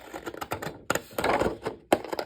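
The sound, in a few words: scissors cutting paper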